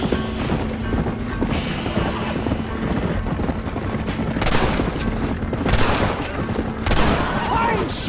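Gunshots from the video game Red Dead Redemption crack out several times over a steady bed of clip-clopping horse hooves and neighing, with a few sharp loud bursts standing out near the end.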